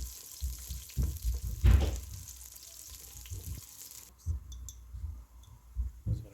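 Garlic cloves frying in hot ghee, stirred a little, give a steady low sizzle broken by scattered clicks and the scrape of a spoon, with the high hiss dropping away in the final seconds.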